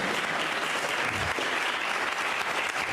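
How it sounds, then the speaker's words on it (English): A crowd at a school district back-to-school meeting claps together, a dense, even wash of applause lasting a few seconds with no break. "Give me a clap for the networks."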